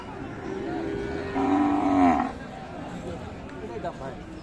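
A bull at a cattle market gives a loud, drawn-out low call lasting under a second, standing out from a busy backdrop of murmuring voices and crowd noise.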